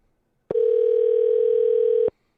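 A steady telephone tone sounds after a caller hangs up, one loud continuous electronic beep lasting about a second and a half, alone against silence.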